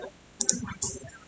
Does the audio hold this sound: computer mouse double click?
yes